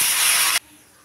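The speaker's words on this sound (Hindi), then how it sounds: "1 सीटी आ गई है" A pressure cooker on a gas stove lets out its whistle while cooking rice: a loud, steady rush of hissing steam that lasts about half a second and then cuts off abruptly, leaving near silence.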